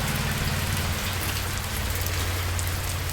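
Steady rain pours down in a village, a dense, constant hiss of drops on surfaces with a low rumbling undertone, loud and close, no voices.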